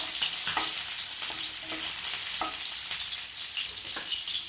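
Ginger, garlic and three green chillies sauté in hot oil for a restaurant-style chilli bread, giving a steady, close, dense sizzle with a few sharp spatula taps and stirs on the pan. No one speaks.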